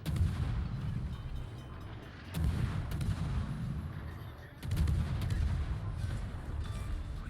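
Naval gunfire from a Kitakaze Tier 9 Japanese destroyer in World of Warships, heard as steady booming salvos with sharp onsets about every two seconds over a dense low rumble, loud and close.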